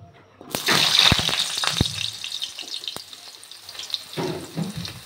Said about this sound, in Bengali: গরম হয়ে গেছে, এবার আমি আলুগুলো ভেজে নিচ্ছি